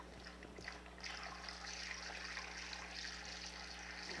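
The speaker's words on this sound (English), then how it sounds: "So now we fill this up with water." Water pours steadily into the cooling system of a VW Golf MK3 engine during a flush, a continuous splashing hiss that runs throughout at moderate volume.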